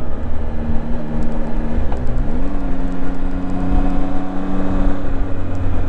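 Zontes 703F motorcycle engine droning steadily while riding, loud and close, its pitch holding then climbing smoothly as the rider works through the gears, with wind rush underneath.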